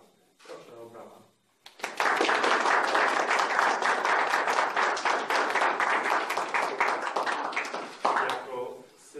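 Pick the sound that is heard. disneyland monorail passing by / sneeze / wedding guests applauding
wedding guests applauding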